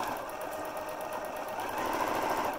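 A sewing machine runs steadily, stitching the webbing holder on a backpack purse while boxing its corners, a continuous close mechanical whir with fast even needle rhythm throughout and no talking.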